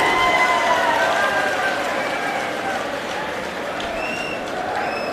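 Large open-air political rally crowd applauding for Bhagwant Mann, a broad continuous roar of clapping and crowd noise with a faint amplified voice and tones over it.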